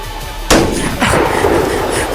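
Gunfire in an action fight scene: a sharp loud burst cuts in sharply, followed by a sustained roar of further shots and rumble, dense and close throughout.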